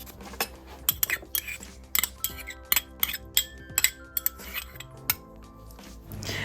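A spoon clinks and scrapes against a dish while sugar, cinnamon powder, orange zest and sultanas are mixed together, sharp intermittent taps and scrapes spread across the stretch, fairly close and moderately loud.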